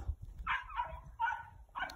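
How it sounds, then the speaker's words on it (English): Puppies squeak and whimper in a few short high-pitched bursts, fairly quiet and a little distant, with low background rumble under them. "We have puppies squeaking and squawking in the background."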